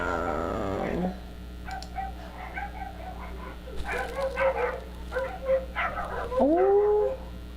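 Several dogs barking and whimpering outside, heard from indoors at a moderate distance in irregular bursts, with one rising howl-like whine near the end and a brief voice early on.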